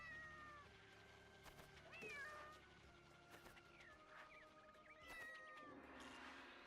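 Repeated meows from a cat in LittleBigPlanet, several rising calls scattered over game music and ambient effects, moderately close and fairly quiet.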